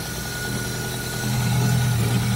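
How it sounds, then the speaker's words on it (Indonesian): A 2005 Suzuki Karimun GX engine idles with a steady, smooth low hum, with a slight rise in low rumble partway through; no voices. "Ini suara mesin halus, standar normal, tidak ada suara-suara kasar."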